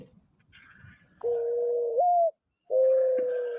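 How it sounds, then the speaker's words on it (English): A played-back bird call with steady, hollow cooing tones, two sustained notes with a brief gap between them, clear and fairly loud over a quiet background with no talking. "this is my favorite bird sound"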